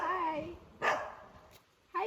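A dog gives a couple of short barks among other dogs, mixed with people talking nearby in a quiet outdoor spot, each bark brief and fairly close.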